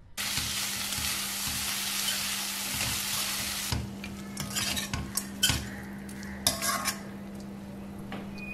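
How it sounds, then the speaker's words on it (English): Green chilies and grated raw mango sautéing in a pan for raw mango rice, a strong sizzle at first that settles into quieter frying, broken by clinks of a spoon against the pan. "green chilies, grated raw mango, salt needed. Saute for 4 to 5 minutes"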